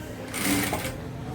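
Sewing machine stitching a dress top in normal straight stitch, a rapid whirring burst that rises in the middle of the clip over a quiet room hum.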